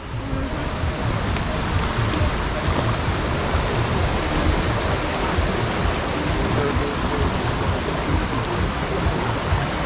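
Roaring River in Westmoreland, Jamaica rushes loudly and steadily, a dense, unbroken roar of flowing water heard up close for the whole stretch.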